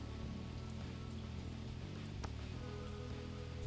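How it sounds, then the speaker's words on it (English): Steady, dense rain patters down across a shop in the Kardboard Kings card shop video game, a continuous wash of drops with a low ambient hum and no voices. "Oh, it's actually raining!"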